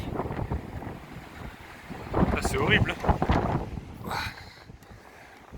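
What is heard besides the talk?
strong gusty wind around a camper van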